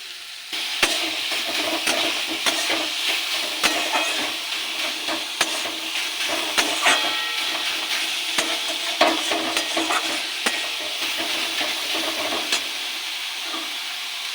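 Chopped banana stem sizzles in a pan with tamarind pulp and sugar for a sweet-sour dish. A spatula scrapes and stirs it in steady, repeated strokes under a continuous frying hiss.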